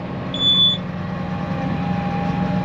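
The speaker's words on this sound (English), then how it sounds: "Get a warning beep and then a stop beep." A single short, high-pitched electronic warning beep from a hay baler making silage bales sounds over a steady low machine hum, followed by a thin continuous tone.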